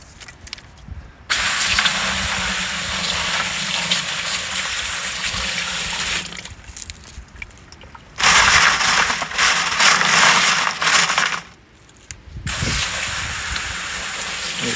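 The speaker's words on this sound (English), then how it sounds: "we're just gonna rinse these off" Rocks rinsed with gushing water in a gold screener to wash off red dirt, a steady broadband rush of running water with a few short pauses where the flow stops.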